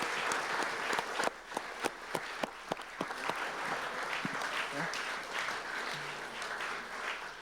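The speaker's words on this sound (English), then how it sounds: "So I'd like everybody just to give her a round of applause." Audience at a forum applauds with steady, sustained clapping. A few louder individual claps stand out early before the applause gradually softens.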